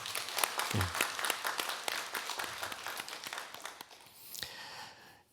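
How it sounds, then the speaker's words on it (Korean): A church congregation claps for the finance committee during a Sunday afternoon worship service, a fairly faint but steady burst of many hands that thins out toward the end. "우리 큰 박수로 좀 격려해 드리면 좋겠어요"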